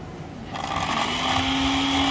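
A blender starts up and whirs steadily, mixing watermelon with mint and nectar, its motor rising into a loud, sustained hum close by.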